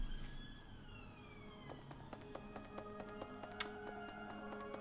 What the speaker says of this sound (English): there's been a lot of police cars like going flying around this morning